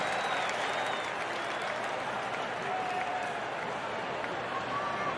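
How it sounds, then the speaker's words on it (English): Cubs fans at a Brewers–Cubs baseball game raise a mock cheer after a second out, a steady wash of distant stadium applause and crowd noise with faint whistles. "a mock cheer goes up from Cubs fans"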